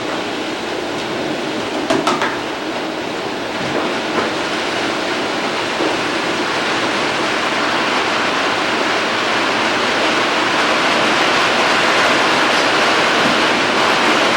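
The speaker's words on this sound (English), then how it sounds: "I hear some rain, so I hope you can hear me." Steady, dense hiss of rain falling, continuous and even throughout with a few faint knocks early on.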